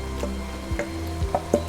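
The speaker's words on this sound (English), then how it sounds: "So I'm going to add my mushrooms and onion to the beef." Beef frying in a pan, with mushrooms and onion just added, gives a steady low sizzle broken by several short scrapes and knocks as the mixture is stirred.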